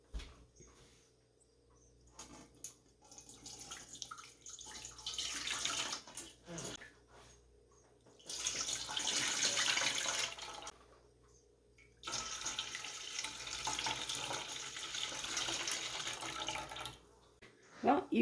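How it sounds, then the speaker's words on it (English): Apple juice strains through a cut-open jelly bag laid over a strainer, heard as a soft, uneven trickling and splashing that rises and falls in bursts, with quiet pauses between them. "I'm going to strain through this jelly bag, but I cut it open just so it can cover a strainer"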